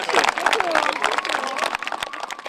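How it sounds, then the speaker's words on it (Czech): A crowd gives a big round of applause at the opening of a newly renovated sports playground in Kravaře, with dense, loud clapping and voices and cheers mixed in throughout. "A potlesk, velikánský potlesk!"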